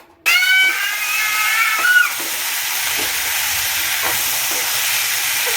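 Potato and cauliflower pieces hit a hot pan of frying onions with a sudden loud sizzle, then keep hissing steadily while a spatula stirs them, with a few scraping knocks along the way.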